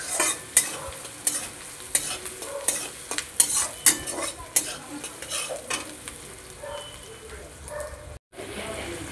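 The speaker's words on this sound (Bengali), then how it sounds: "পেঁয়াজটাকে লাল রঙ করে ভেজে নেব" Onion frying in oil in a pan gives a continuous sizzle under repeated stirring scrapes and clacks, with irregular close utensil hits and a brief dropout near the end.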